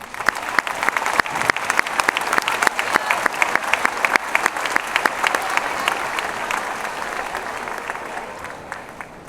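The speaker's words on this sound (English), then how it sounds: "A round of applause for those students." School awards audience applauds students receiving a physical education leadership award, with a few distinct close, sharp claps standing out over the crowd's steady clapping, fading a little toward the end.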